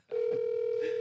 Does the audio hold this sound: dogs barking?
no